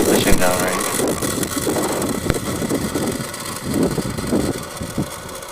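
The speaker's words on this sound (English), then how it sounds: "Liftoff of the Falcon 9." A SpaceX Falcon 9 rocket lifts off carrying Starlink satellites on the booster's eleventh flight, a steady, broad roar with wind buffeting, heard from a distance with no pauses.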